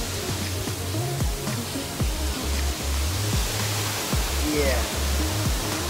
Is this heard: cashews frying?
no